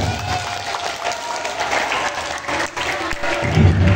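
An audience of students at a Ramadan boarding program at SMP Plus Darus Sholah in Jember claps steadily for several seconds, a dense, even patter filling the hall.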